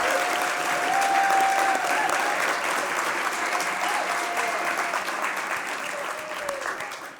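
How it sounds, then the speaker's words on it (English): A crowd at the 2024 Fellow Awards Ceremony gives a sustained round of applause for the honorees, a full, even wash of clapping lasting several seconds and tapering slightly at the end. "Let's give one more round of applause for Allan"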